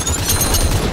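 Dense, continuous gunfire in the VR battle royale game Population: One, a steady burst of overlapping shots at moderate distance filling the whole second.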